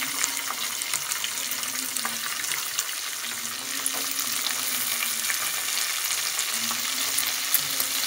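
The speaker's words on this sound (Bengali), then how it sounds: "এবার এক এক করে সবজিগুলো সব দিয়ে দিচ্ছি। বিনস দিয়ে দিলাম" Beans and vegetables frying with onions in butter and oil, an even, dense sizzle that holds steady at close range throughout with no talk.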